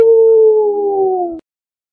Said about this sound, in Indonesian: anjing menggonggong rame, sesekali ada lolongan